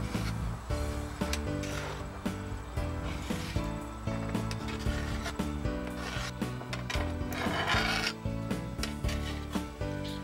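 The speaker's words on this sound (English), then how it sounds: "Get it starting to cook and now start working it with a spatula." A metal spatula scrapes and pushes scrambled eggs around a pan over an outdoor cooking fire, giving a steady run of close rasping and clinking strokes with no talk.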